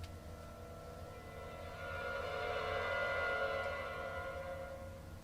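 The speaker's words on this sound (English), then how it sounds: "So Ghostly Clusters sounds like this." ProjectSAM Ghostly Clusters sample: a creepy, sustained cluster of eerie tones that swells and rises in loudness midway, then holds and eases slightly, alone without any voices.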